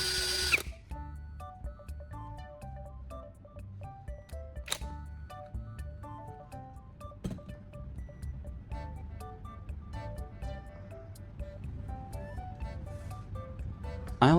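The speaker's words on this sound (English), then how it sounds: "I'm mounting the carbon rod in my drill and using sandpaper to grind it down to a sharp tip." An electric drill spins a carbon rod pressed against sandpaper to grind it to a point, giving a steady whirring tone with faint scraping and brief clicks as it starts and stops.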